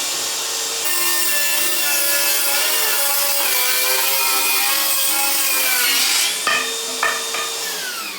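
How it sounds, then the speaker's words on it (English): A DeWalt FlexVolt 60-volt brushless table saw rips through a big chunk of wood with a loud, close, sustained whine, its pitch shifting under load before the blade frees and spins down. "they have a 60 volt table saw. This thing works awesome."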